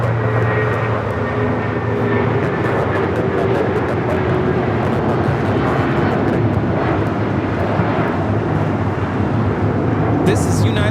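A Falcon jet rolls for takeoff on runway 25 right at LAX, its engines a loud continuous roar that holds steady throughout, with a radio voice talking over it.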